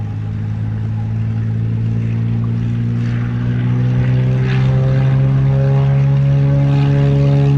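A propeller airplane powers up for takeoff at Montego Bay airport in Jamaica, its steady droning engine tone holding loud and close throughout with no voices over it.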